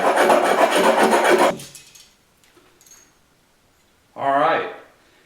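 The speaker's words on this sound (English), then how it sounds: "you're just going to hold your trap down and simply start filing" Steel trap pan being filed by hand, a dense rasping scrape lasting about a second and a half before stopping, followed after a pause by a brief burst of talk.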